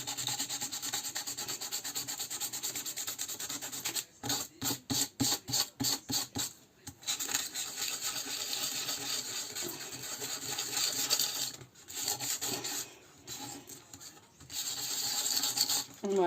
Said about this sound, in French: Donc, je vais le poncer pour que ça accroche la colle, les encres, etc.